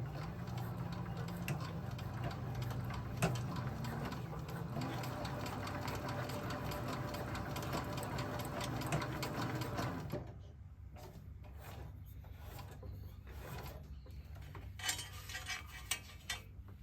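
Cowboy CB6900 industrial sewing machine stitching a D-ring onto a dog collar, a loud steady mechanical whir for about ten seconds, then stopping and giving way to quieter handling clicks and taps.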